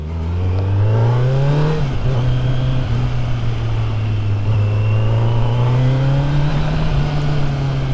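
A Kawasaki Z900 superbike's engine and exhaust rev loudly up close, a smooth, rising growl that holds, dips briefly and climbs again under steady throttle.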